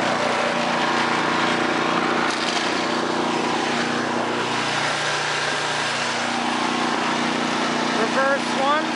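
A Craftsman 10/30 snowblower engine runs steadily in first gear, a continuous close, loud mechanical drone with little variation throughout.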